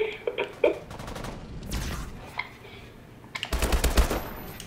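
Rapid bursts of automatic gunfire in the Call of Duty: Advanced Warfare video game, scattered shots early and then a louder, denser volley near the end.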